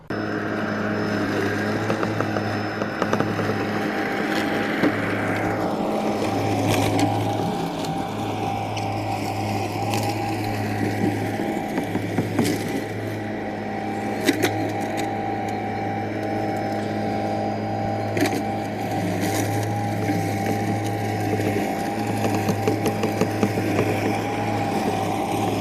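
A Lymow One robotic lawn mower cuts short grass with its cutting height set low, producing a steady, fairly loud motor drone with a constant low hum. Occasional faint clicks and scrapes break the drone, and there is no talking.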